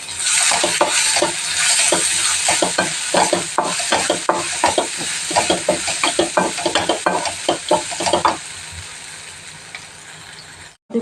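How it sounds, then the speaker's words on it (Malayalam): Chopped ginger sautéed in a hot pan: close, steady sizzling with a rapid run of scraping, clattering stirring strokes that stop near the end, leaving the sizzle to fade. "ഇനി നമ്മൾ അരിഞ്ഞ് വെച്ചേക്കുന്ന നമ്മുടെ ഇഞ്ചി ഇട്ട് കൊടുക്കാം ഇനി ഇത് നമുക്കൊന്ന് വഴറ്റാം"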